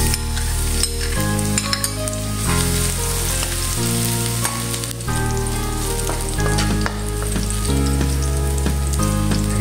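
Garlic fries in cooking oil in a pan, a loud, continuous sizzle with stirring scrapes over a steady backdrop of changing low musical tones, no voices present.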